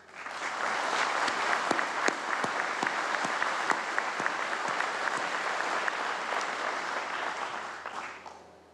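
Sustained audience applause at a Korean Police Day ceremony, a dense, steady clapping from a large crowd lasting several seconds before tapering off at the end.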